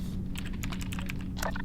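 Quick clatter of keystrokes on a computer keyboard, a close, quiet run of irregular taps with a few faster bursts near the end, over low background hum.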